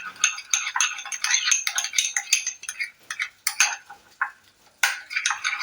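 A spoon clinks and scrapes against a bowl while coffee powder face pack paste is stirred, producing rapid, close, irregular metallic taps and rattles with brief pauses, no voices.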